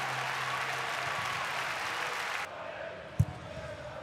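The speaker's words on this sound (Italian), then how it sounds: "L'applauso per il portierino cresciuto e coccolato in casa" A Serie A stadium crowd at Udinese versus Sassuolo applauds goalkeeper Simone Scuffetta with a broad, steady roar of clapping under a commentator's voice. The noise cuts off abruptly midway, followed by a single dull thump.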